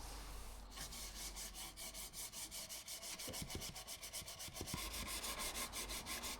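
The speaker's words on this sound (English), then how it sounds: "Then I hand sand everything to 180." Wood is hand sanded to 180 grit, a continuous rhythmic scratching of fast back-and-forth strokes, close and steady.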